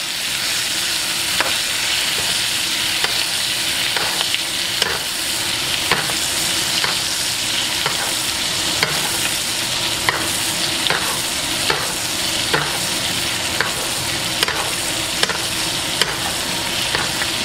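A steak frying in a pan while being basted with butter, garlic and rosemary, with a loud continuous sizzle broken by regular spoon taps and scrapes about once a second.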